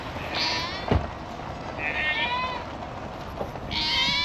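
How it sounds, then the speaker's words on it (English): Several goat bleats on a flooded farm, three drawn-out calls spaced across the moment over a steady outdoor hiss, with a brief thump near the start. "I see the goats here."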